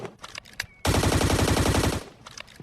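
Rapid, loud gunfire bursts for about a second in the mobile battle-royale game Scarfall on the Mumbai map, with a shotgun fired during a rush on enemies above, alone between quieter game sounds.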